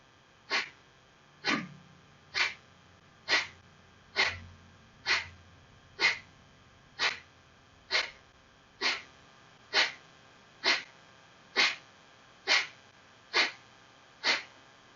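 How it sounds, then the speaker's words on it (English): Kapalabhati yoga breathing, a series of about fifteen sharp, forceful nasal exhalations evenly spaced roughly one second apart, close and distinct over near silence. "preparing for Kapalabhati, take a 3/4 breath in"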